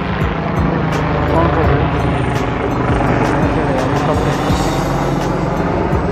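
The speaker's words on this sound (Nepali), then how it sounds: "हेलिकप्टर पनि जाँदैछ" A steady, loud rotor and engine drone of a helicopter passing over a boating area in Abu Dhabi, with a constant rumbling wash and no clear talk.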